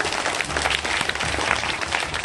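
Dense, steady applause from a crowd at a Congress-versus-BJP political rally in Jaisinagar, Sagar, sustained loud clapping filling the whole stretch without pause.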